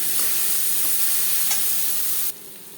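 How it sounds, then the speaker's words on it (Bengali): Onion, green chilli and turmeric frying in oil with panch phoron and dried red chilli for masoor dal, a steady close sizzle with a few faint stirring knocks, cutting off abruptly near the end. "শুকনো লঙ্কা পাঁচফোড়ন ভেজে নেওয়ার পর দিয়ে দেবো পেঁয়াজ সেরা কাঁচা লঙ্কা হলুদের গুঁড়ো"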